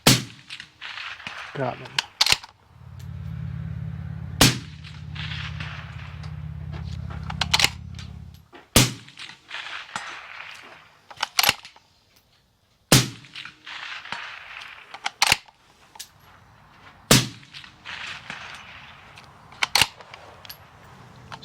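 Uintah Precision UPR-15 .223 rifle fired off a tripod at long-range targets out to 400 yards: sharp, loud single shots spaced a few seconds apart, about ten in all, with a brief spoken remark and a low engine-like hum early on.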